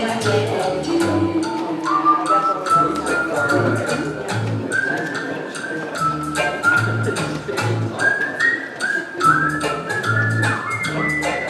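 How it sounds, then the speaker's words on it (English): A church congregation whistles along to a song at a Thanksgiving service, with clear melodic whistling over a pulsing low backing beat that continues throughout. "Feel free to whistle along as the song goes."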